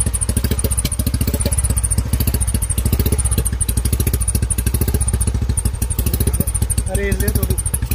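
A modified Royal Enfield Bullet motorcycle with an aftermarket whistle exhaust runs close by, a steady rapid thumping beat with a faint high whistling tone above it, and a voice speaks briefly over the engine.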